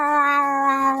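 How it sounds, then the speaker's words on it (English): A single drawn-out cat meow, clear and close, tonal and steady for about a second with no talk over it. "here's your sound of a cat"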